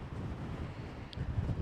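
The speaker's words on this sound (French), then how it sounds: "vu le vent comment il souffle là, c'est un petit peu chaud" Strong wind buffets the microphone near a beach on the Giens peninsula, a steady low rumble with gusty swells and no talk.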